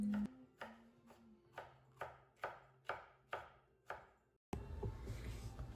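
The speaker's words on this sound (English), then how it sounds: "first we'll start off by cutting the bell pepper" A knife chops bell pepper on a cutting board for ratatouille, eight evenly spaced crisp thuds close up, followed by a brief silence and then a denser burst of cutting noise.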